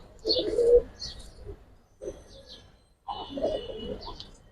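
Domestic pigeons at a Bangladeshi pigeon seller's coop, fancy breeds such as Giribaz and Army, coo in three close, moderately loud bursts separated by short pauses, with faint chirps above and no talking.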